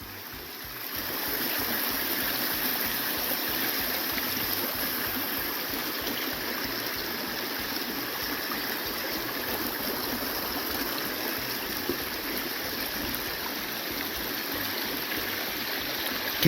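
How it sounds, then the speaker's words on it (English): Wilson Creek on the Appalachian Trail in Virginia, a steady rushing stream with a continuous broad wash of flowing water, close and even throughout, with no talk. "This is Wilson Creek."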